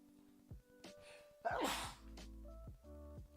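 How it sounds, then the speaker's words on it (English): A single sharp human sneeze bursts out near the middle, loud and close, with short breathy gasps and small mouth sounds around it in an otherwise quiet room. "I gotta sneeze."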